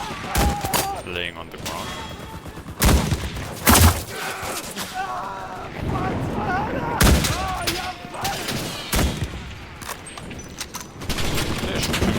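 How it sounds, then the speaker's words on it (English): Machine gun fire in a video game crackles in repeated sharp bursts and single heavy shots across the whole stretch, with players talking between the volleys. "They're shooting in the walls."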